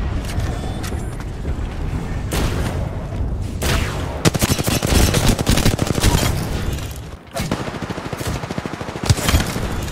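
Bursts of automatic gunfire in the video game Apex Legends, with scattered shots early on and then a long rapid stream of close, sharp shots in the middle, followed by a brief lull and more firing.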